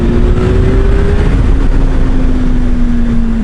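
A vehicle pulls hard in third gear from about 40 mph, its engine a loud, sustained drone with a steady tone over heavy road and wind roar, close and continuous.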